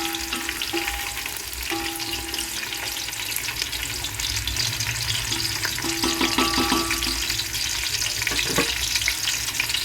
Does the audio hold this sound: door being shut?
no